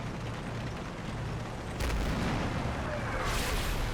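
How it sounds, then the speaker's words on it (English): A Pershing tank gun fires in a wargame and misses, a single heavy boom with a trailing rumble rising above steady background noise, then a second swell of sound. "So that was the Pershing firing and missing."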